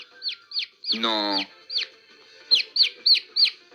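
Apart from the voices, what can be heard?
chick peeping inside an egg in an incubator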